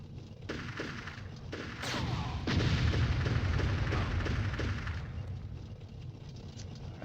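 Heavy booming cannon blasts from a tank firing shells in the video game Army Men: Sarge's Heroes, several loud rolling explosions over constant game noise, strongest in the middle stretch.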